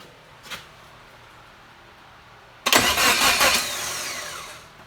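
An old vehicle with a winch, its engine cranked over after a quiet stretch and a single knock, then catching into a loud, rough, rumbling run that slowly fades but keeps going.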